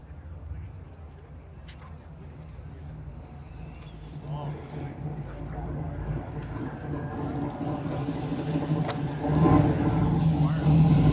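Chevrolet Camaro at a classic car meet, its engine building from a quiet idle into rising revs that grow louder, with people talking in the background.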